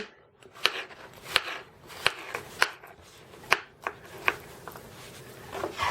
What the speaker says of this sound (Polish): Kroję sobie drobniutko w kostkę.